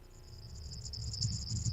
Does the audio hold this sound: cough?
no